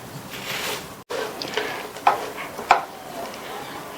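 Sweet puffed rice flakes (aval pori) with cardamom powder are stirred with a wide ladle in a vessel, giving soft rustling scrapes punctuated by a few sharp metallic clinks up close.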